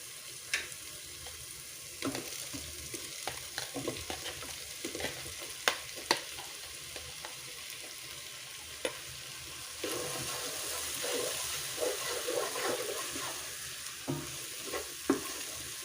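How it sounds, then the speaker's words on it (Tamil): Mushrooms stirred into oil fried with spice powders for mushroom rice: a soft, steady sizzle with scattered spoon scrapes and taps against the pan, fairly quiet, swelling a little toward the end. "மஷ்ரூம் ஆட் பண்ணிட்டு இது போல் கிண்டி விட்டுக்கோங்க."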